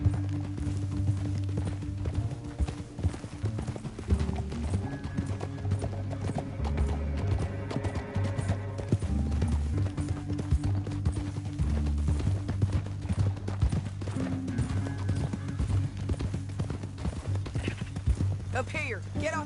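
Horse hooves galloping in Red Dead Redemption 2, steady clip-clop of several horses running continuously, with neighing, a musical score and talk over the top.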